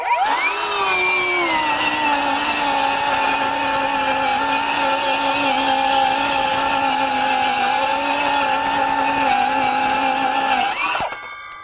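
A Metabo HPT 18V MultiVolt 7-1/4 inch circular saw on a 36V battery cuts through wood with a loud, steady high whine, its motor bogging slightly, for about eleven seconds before spinning down at the end.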